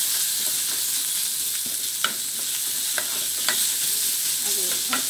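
Onions fry in a hot pan with a steady, close sizzle and a few sharp stirring clicks scattered through it; no one speaks.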